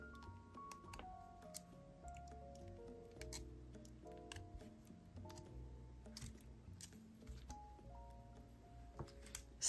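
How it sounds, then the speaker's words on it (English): Small cutters snip off excess jewelry wire on a charm bracelet, making a few light, close clicks and snips over soft background music. "Snip off the excess."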